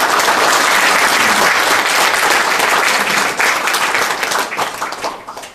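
An audience at a taekwondo event breaks into loud, dense applause, continuous clapping from many hands that holds strong before thinning out and tapering near the end.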